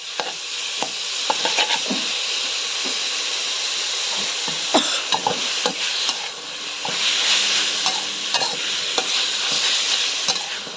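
Sliced pork stir-fried in a pan for a Thai kale stir-fry lunch, giving a steady close sizzle and hiss with repeated scraping and stirring clacks of a utensil against the pan throughout.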